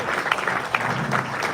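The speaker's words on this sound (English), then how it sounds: "please give a round of applause" A synagogue audience gives a short round of applause, a brief burst of clapping with a few distinct sharp claps over a murmuring crowd.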